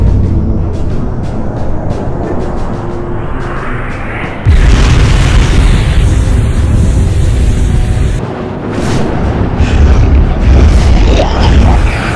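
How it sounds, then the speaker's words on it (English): An atomic railgun fires in a Gmod animation of Godzilla fighting an archdemon, a loud charging rumble giving way to a huge booming blast and sustained roaring explosion, then a second heavy surge of rumbling. "Fire the atomic railgun."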